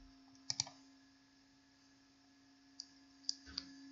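Scattered keystrokes on a computer keyboard while a headline is typed, a few soft clicks in two brief clusters over a steady faint hum, with no voices.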